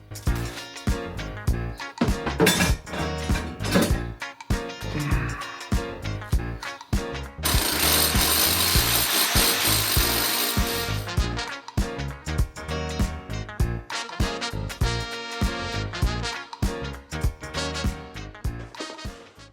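A loud power drill hammers and grinds in rapid bursts, with a long continuous stretch of drilling in the middle, close and harsh.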